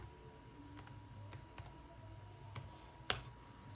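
Keys click on a computer keyboard in a sparse, uneven run of taps, ending with a sharper, louder press of the enter key; close and clear with no talk.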